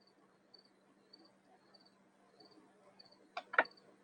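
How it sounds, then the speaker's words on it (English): Crickets chirp outdoors at night in faint, evenly spaced trills over a low steady hum, with a couple of brief louder knocks near the end. "the crickets are singing tonight."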